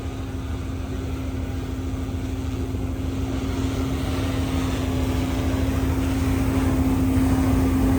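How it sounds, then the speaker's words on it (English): A drone descending over a third-alarm house fire, heard as a steady, fairly loud propeller whine with a constant tonal hum, continuous and unbroken over outdoor background noise. "there's the famous drone coming down"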